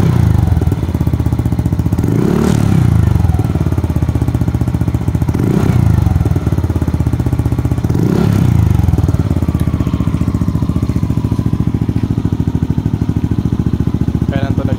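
A stock-engine Yamaha Aerox version 1 scooter with a TRC Power Pipe exhaust, idling with a bassy burble and revved in three sharp bursts, loud and close.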